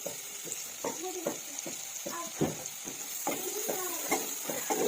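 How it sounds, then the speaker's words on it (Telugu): Cumin seeds fry in oil for a village-style bottle gourd curry, with a steady sizzle under repeated spoon scrapes and stirring strokes against the pan, close and fairly quiet, with no voices. "జీలకర్ర వేసుకుంటాం అది వేగిన తర్వాత వెల్లుల్లి వేసుకోవాలి"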